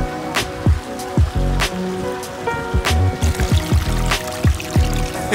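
A small garden water feature in a pond splashes and patters steadily, with irregular drips and splashes over a continuous wash of falling water, close and with no one talking.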